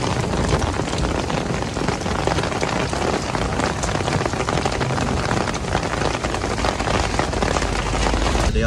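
Steady, dense rain falls on surfaces on the way from Dadyal to Chakswari in Mirpur, Azad Kashmir, a constant close hiss and patter with no break throughout.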